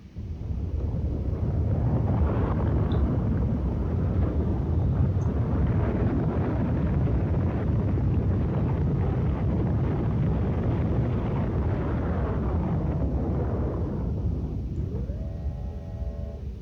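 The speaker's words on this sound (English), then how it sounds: "We can watch 2 rockets launch here in a second." Two rockets launch in Factorio, a loud, continuous roar of rumbling thrust that holds steady for most of the stretch, then eases as a faint rising tonal whine enters near the end.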